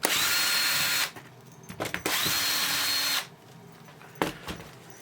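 A power drill whirs at close range as it backs screws out of a steampunk Tardis console build, running in two long bursts with short pauses and rattling handling noises between them, followed by a brief final spurt.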